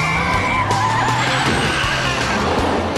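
A toy Lego car speeds past with a continuous tire-squeal and skidding engine rush, loud and close, a rising whine sweeping through, with no talking.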